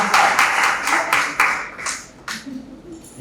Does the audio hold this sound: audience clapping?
yes